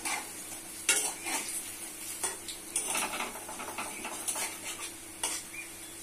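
Lentil dumplings (bori) frying in hot soybean oil in a pan: a steady, close sizzle broken by metal spoon scrapes and clinks against the pan, moderately quiet, with no speech.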